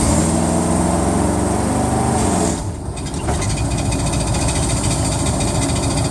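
A 1980 Camaro V8 fitted with a FiTech fuel-injected carb revs up: steady loud engine drone with strong low harmonics, a brief dip in the middle, then a busier, rougher higher-RPM roar.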